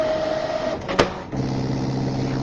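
A Brother ScanNCut cutting machine with a roll feeder and vinyl auto blade starts a test cut on vinyl, giving a close electronic whir, a sharp click or beep, then a steady low motor hum, with no talk.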